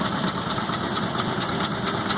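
A 1948 John Deere B tractor engine runs steadily at a tractor parade, a loud, close, continuous low chugging with a fast regular pulse and no pauses.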